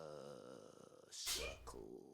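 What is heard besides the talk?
character sneezing in video game Final Fantasy XVI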